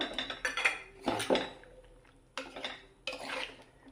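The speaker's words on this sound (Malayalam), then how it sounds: "ഇതെല്ലാം ഒന്ന് മിക്സ് ചെയ്തെടുക്കാം" A spoon mixes grated coconut and crushed garlic in a pan in a few short bursts of clinking and scraping metal, separated by brief quiet gaps, heard close up with no voices.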